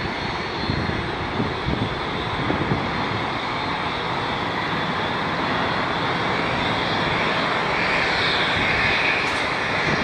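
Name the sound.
Airbus A320 in special livery, aircraft engine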